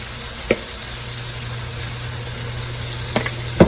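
Green beans sizzle steadily in bacon grease over medium-high heat in a pan, a close continuous crackle broken by a few sharp knocks of a utensil against the pan.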